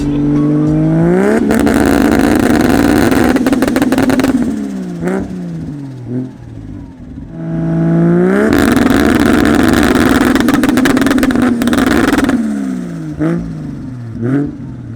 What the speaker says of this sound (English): And it shoots big flames and does two-step.